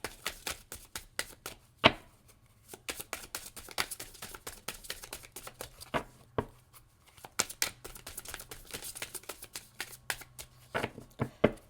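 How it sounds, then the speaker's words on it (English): Cards being riffled and shuffled over and over, a steady crackle of flicking edges with a few sharper snaps, close by and without talk. "Some quick announcements as I'm shuffling."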